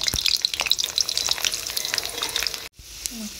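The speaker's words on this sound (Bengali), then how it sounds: "এবার আমি দুফালা রসুনগুলো তেলেতে একটু ভেজে নেব।" Halved garlic cloves fry in white cooking oil for a Bengali potol curry, giving a bright, steady crackling sizzle with sharp pops. A short stir interrupts it near the end before the hiss resumes more quietly.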